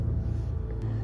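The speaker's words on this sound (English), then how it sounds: "Again, I apologize for the noise that you are hearing from the mowers." Lawn mower engines run outside as a steady low, even drone, constant throughout with no talk.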